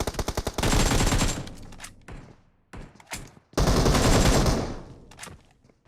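Gunfire in the video game PUBG Mobile: a quick burst of single shots, then two long sustained automatic bursts with a few short isolated shots between them, loud and close.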